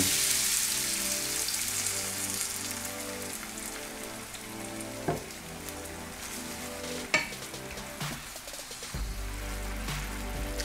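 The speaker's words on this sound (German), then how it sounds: "Das lasse ich jetzt so lange kochen, bis die Sahne ein bisschen einreduziert ist" Cream sauce with flat-leaf parsley reducing in a pan for a cream mushroom sauce, a steady soft bubbling and sizzling that runs on its own, with a couple of brief utensil knocks.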